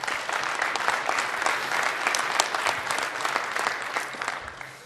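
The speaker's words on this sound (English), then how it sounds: "Spontaneous applause will always..." A conference audience at SharePoint Conference 2012 breaks into steady, dense applause that holds evenly throughout with no voices on top.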